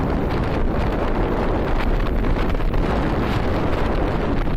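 Strong headwind roars steadily across the microphone during a top-speed run on an Eahora Tiger Max electric scooter, a loud, constant rushing buffet with no talk.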